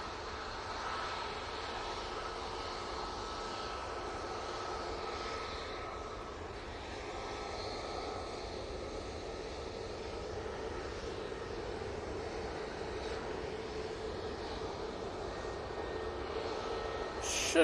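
A Ryanair airliner inbound from Marseille approaches Manchester Airport, its engine roar a steady, fairly distant drone that swells slowly over about eighteen seconds, with no talk.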